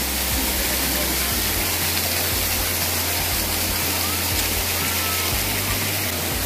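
Water pours heavily from a large spout at a hot spring, a steady loud rushing roar that fills the scene throughout with no break.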